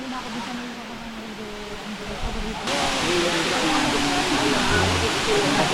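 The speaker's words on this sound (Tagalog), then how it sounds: "nandito na tayo sa Kaparkan Falls" Kaparkan Falls in Tineg, Abra, roaring as a steady broadband rush of falling water that grows louder midway, with people talking over it.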